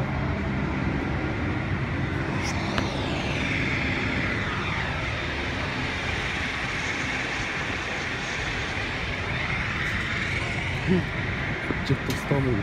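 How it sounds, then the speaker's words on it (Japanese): A Jetstar jet airliner starts to roll at Kagoshima Airport, its engines a steady distant roar and whine that swells slightly, with people talking nearby over the noise. "ジェットスターも動きだした。"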